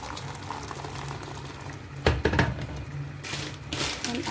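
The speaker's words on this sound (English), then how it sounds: "So just add hot water here." Hot water is added to a cooking pot for spaghetti, giving a low simmering bubble with a burst of pouring and splashing midway, then another wash of liquid noise. It is quiet and close.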